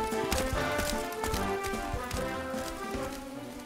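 Rapid rhythmic hoofbeats of a horse galloping in Dragon Quest XI, close and steady, layered with game music and ambience.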